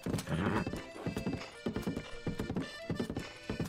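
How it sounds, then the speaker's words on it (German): Horse hooves clop in a quick, steady galloping rhythm while riding in Zelda Breath of the Wild, loud and close, with a neigh mixed in among the repeated hoof strikes. "Wir reiten erstmal rüber."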